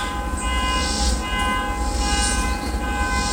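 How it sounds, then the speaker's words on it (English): A train horn blares in a long, loud, sustained chord near woods, layered over the rumble and clatter of rail cars rolling past. "Without the damn honking horn."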